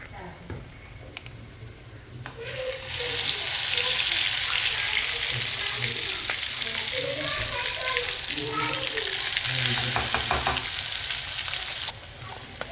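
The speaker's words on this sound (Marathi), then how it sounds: "खसखस आणि नारळाचं मिश्रण जे आहे ते मिश्रण आपण यामध्ये तेलामध्ये परतून घेणार आहोत" A poppy seed and coconut mixture fries in oil in a pan, giving a steady sizzle with stirring clatter that swells after a quieter start and continues evenly throughout.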